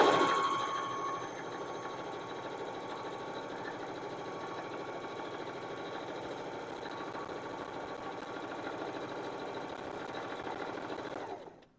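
A sewing machine stitches a curtain in one steady, unbroken run of about eleven seconds, its close, even motor whir holding a constant pace before it stops.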